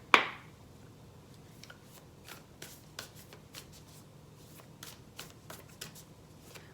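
A Sacred Traveler Oracle card deck being shuffled, soft irregular riffles and card taps close by at a quiet level, with no talking.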